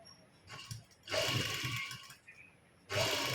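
A sewing machine stitches lace onto a shirt, running in two loud, steady bursts separated by a quieter pause, with faint handling noise between runs.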